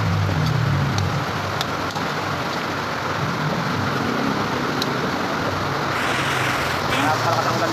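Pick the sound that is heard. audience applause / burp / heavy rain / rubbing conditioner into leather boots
heavy rain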